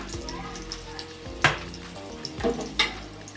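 Pabda fish fry in hot oil with a constant close sizzle, broken by a few sharp spattering pops.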